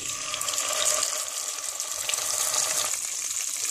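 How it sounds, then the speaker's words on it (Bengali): Koi fish frying in hot mustard oil, a steady close sizzle and crackle of fish hitting the heated pan, continuous throughout with no voices. "পরিমাণ মতো সরিষার তেল গরম করে নিয়েছি, সামান্য লবণ ছিটিয়ে দিচ্ছি, তাহলে মাছ লেগে যাবে না। দিয়ে দিচ্ছি কই মাছ"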